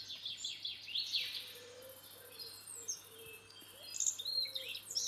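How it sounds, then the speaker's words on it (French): Soft ambient birdsong from a Minecraft sound mod, with repeated chirps and short trills, some near and some distant, over a faint insect hum, quiet and with no talking. "j'ai rajouté un mode qui fait une ambiance sonore. C'est-à-dire qu'il y a plus de sons, des sons d'oiseaux et tout ça"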